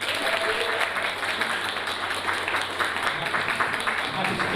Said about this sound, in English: please give them a massive round of applause so they can hear it from wherever they are